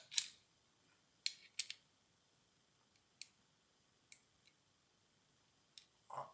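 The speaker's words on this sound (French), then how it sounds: "Je vais revisser mon écrou." Small, sharp clicks and light metallic ticks come from a nut being screwed back onto a Rali Pocket Guillaume hand plane, sparse and irregular, close up and quiet in a near-silent room.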